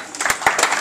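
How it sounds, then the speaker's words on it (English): Short burst of applause from a group at a spinal hygiene exercise session, several distinct close claps in an irregular rhythm, loud and near. "Give yourselves a big round of applause."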